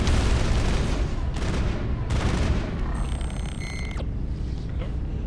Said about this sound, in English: Quit shooting me from behind